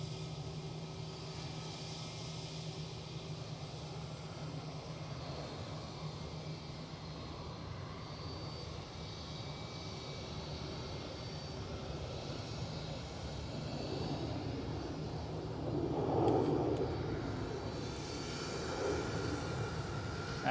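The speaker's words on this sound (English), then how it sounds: "Nope, that's KLM A330." A KLM Airbus A330 at Amsterdam Schiphol gives a faint, distant, steady jet engine hum with a low tonal drone, swelling a little louder near the end, no voices.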